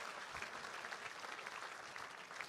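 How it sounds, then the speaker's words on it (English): An audience at the 2022 Minnesota Landscape Arboretum gala auction claps in a faint, dense, steady applause heard from a distance. "let's give them all a huge round of applause"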